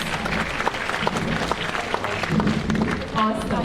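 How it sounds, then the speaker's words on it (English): A round of applause from a show audience for performers, moderate and fairly brief, with voices and some cheering mixed into the clapping. "let's give them a round of applause"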